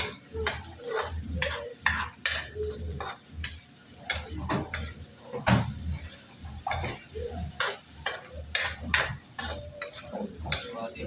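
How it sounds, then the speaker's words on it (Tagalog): Sisig seasoned with salt is stirred in a frying pan, a spatula tapping and scraping in an irregular, busy rhythm over a soft, continuous sizzle, close by. "Tapos, haluin natin guys"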